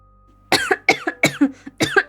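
Several harsh coughs in quick succession, close and fairly loud, with no talking around them.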